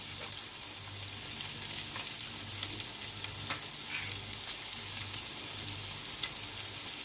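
Lentil patties cook in a pan over medium heat with a steady, close, even sizzle and a soft crackle that holds through the whole stretch, with no voices.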